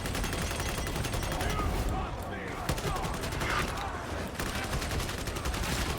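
Rapid continuous gunfire in the video game Warhammer 40,000: Darktide, dense crackling shots repeating steadily throughout at a moderate level.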